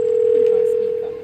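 A phone call is being placed, a single steady electronic tone ringing clearly and close, holding without a break and slightly fading at the end.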